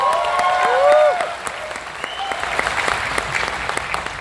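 An audience applauds at a political speech, with dense clapping that is loudest at first and then thins to scattered, uneven claps, along with faint whoops and a few voices.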